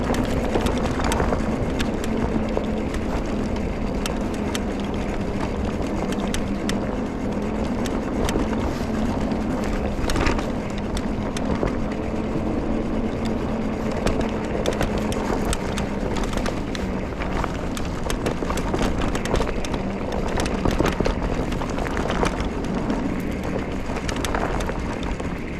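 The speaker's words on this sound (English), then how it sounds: "Snow really makes these tires sound flat." Electric scooter tires riding off-road through snow in winter, a continuous dense rumble and crunching roar with heavy wind buffeting the microphone throughout, close and loud, no speech.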